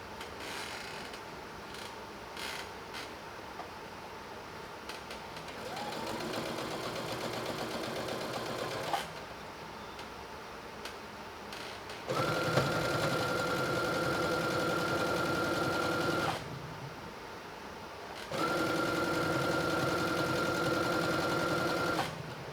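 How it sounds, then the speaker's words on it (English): A Brother SE630 embroidery sewing machine stitching a scrunchie, running in bursts of steady mechanical whirring and rapid needle chatter with a humming tone, pausing between runs, close up. "me making this scrunchie on my brother's SE630 embroidery sewing machine"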